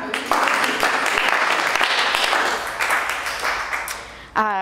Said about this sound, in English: Everyone round of applause with Danya for